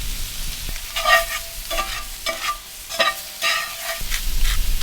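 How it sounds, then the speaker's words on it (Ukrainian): Shrimp frying with onion and garlic on a portable grill, stirred constantly: several scraping, clinking stir strokes over a steady close sizzle, alone with no talk. "Постійно перемішуємо, щоб не пригоріла цибуля."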